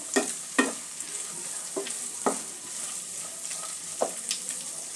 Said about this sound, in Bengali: অল্প একটু কাজু কিশমিশ নিয়েছি, কাজু কিশমিশটাও দিয়ে দেবো। একটু নাড়াচাড়া করে দেব।